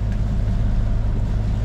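A sailboat motoring under engine power in light wind at about five to six knots gives a loud, steady low drone with a continuous throbbing hum, close and alone.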